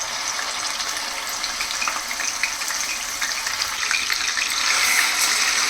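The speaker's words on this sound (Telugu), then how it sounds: "ఇప్పుడైతే 2 టేబుల్ స్పూన్ అల్లం వెల్లుల్లి పేస్ట్ వేసుకుంటున్నాం." Ginger garlic paste fries in oil with a continuous, crackling sizzle, close and fairly loud, flecked with pops and spatters that grow a little busier toward the end.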